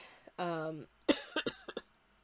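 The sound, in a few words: cough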